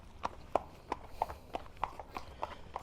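A horse walking on firm ground during an arrival veterinary exam, with about nine evenly spaced hoof clip-clops in a steady rhythm at moderate distance.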